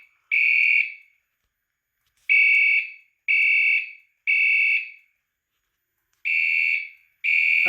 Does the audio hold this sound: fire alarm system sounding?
yes